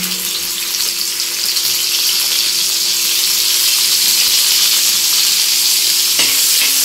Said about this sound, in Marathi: तेल टाकून घ्यायचं आहे आणि त्याच्यामध्ये हा कांदा टाकायचा